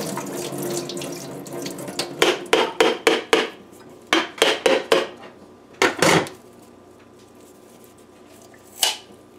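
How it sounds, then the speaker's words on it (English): A coconut being broken open, a series of sharp knocks in quick bursts, some clustered in rapid rows, then a pause and one final crack, close and alone against quiet background. "we're going to break our coconut"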